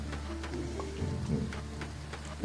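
Steady rain from the Graveyard Keeper video game, a continuous hiss of falling drops with faint patter on surfaces and brief swells, heard alone without talk.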